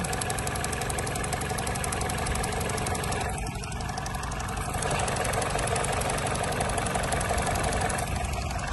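A car engine idles steadily and evenly, a continuous mechanical hum with faint knocking texture that carries on without a break, close by and alone.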